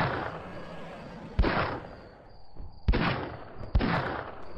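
Gunshots fired at a dragon in Minecraft: three sharp loud reports spaced a second or more apart, each followed by a decaying rumble over a steady background hum.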